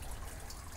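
Water spilling from a hose into an aquaponics pond, a soft continuous trickle and splash held at a steady, fairly quiet level with no voices.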